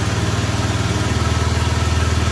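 A Honda automatic scooter engine, just started with its electric starter, idles close by with a steady, even putter throughout.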